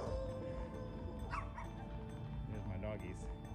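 Several dogs bark and yip a couple of houses away in a Texas neighborhood, short bursts rising over a steady outdoor background with some talk mixed in.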